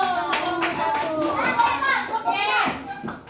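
Fourth-grade schoolchildren in an Indralaya elementary classroom clap together in short bursts, mixed with lively children's voices close by.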